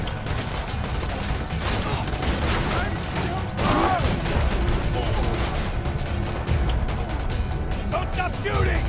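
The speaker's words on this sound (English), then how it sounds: "Don't stop shooting!" Dense gunfire and mechanical weapon clatter from the video game Borderlands 2, loud and continuous bursts layered over a busy game soundscape with crashes and a brief sweeping effect.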